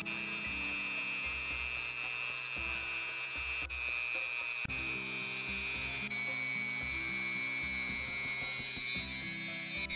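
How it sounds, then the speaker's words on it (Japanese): Handheld rotary router grinding the outer coating off a metal-film resistor, a loud continuous high-pitched whine with slight shifts in load as the bit scrapes. "表面を薄く削り取ります。"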